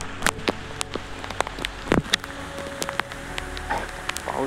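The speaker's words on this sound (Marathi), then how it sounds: "पाऊस खूप पडतोय." Heavy rain falls steadily outdoors around a crab-hunting spot in Wadala, scattered drops striking nearby surfaces over a constant low rumble. Occasional louder close knocks and splashes break through.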